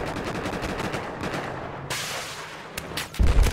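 Gunfire in Battlefield 4 crackles in dense overlapping bursts of automatic fire, with a sharper burst near the middle and heavy booming shots at the end.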